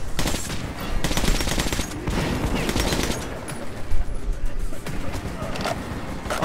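Sustained automatic gunfire from the shooter game Metro 2033 Redux rattles loudly in dense, overlapping bursts that barely pause throughout.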